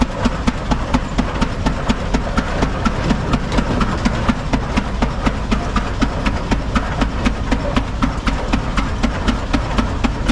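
Old stationary hit-and-miss and steam engines chug steadily nearby at a steam engine show, a loud, rhythmic thumping beat that repeats evenly without pause throughout.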